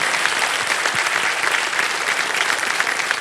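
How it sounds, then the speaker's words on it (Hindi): Studio audience on a televised quiz show applauds steadily for a contestant's grandmother, a dense, even wash of clapping from a large crowd throughout. "एक बार दादी के लिए ताली बज जाए"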